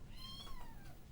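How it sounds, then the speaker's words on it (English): Kittens meow in the background, a few thin drawn-out cries rising and falling, faint behind low room noise. "I hear kittens in the background"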